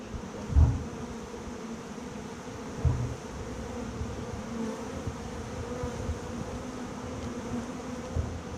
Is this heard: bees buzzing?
yes